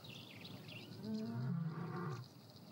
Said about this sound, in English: He can hear the distant roar of another pride.